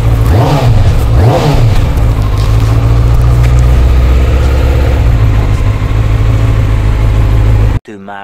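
Vehicle engine fitted with a stock exhaust revs loudly twice near the start, then settles into a steady rumbling idle close to the microphone before cutting off abruptly near the end; voices are heard faintly.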